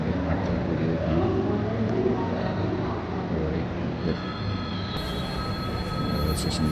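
At a railway station in Goa, a train rumbles steadily close by with a low, continuous roll, and faint squeals and higher tones come in near the end.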